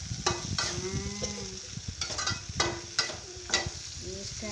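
Eggs sizzle and fry in a pan for Indonesian sambal telur balado, with crackling oil and repeated sharp clatters of a spatula stirring against the pan.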